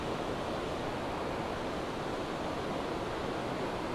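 Swift river current rushing over rocks, a steady loud broadband roar of water that stays constant throughout with no voices.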